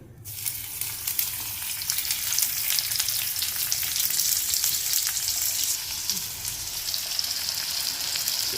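Onions frying in a pan for ridge gourd palya, a loud continuous sizzle that starts abruptly as they go in and holds steady throughout.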